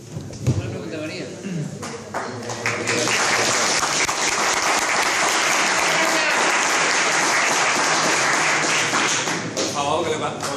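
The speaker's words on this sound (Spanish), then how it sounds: "con los aplausos perdemos tiempo" An audience applauds at a political presentation of an economic programme for Andalusia, a dense sustained clapping that swells after a few seconds and holds loudly, with a voice speaking briefly at the start.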